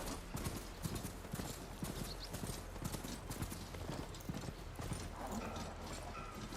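Horse hooves clip-clop steadily in a video game, a brisk even rhythm of close, fairly loud hoofbeats under a soft ambient bed, with a brief whinny-like tone near the end.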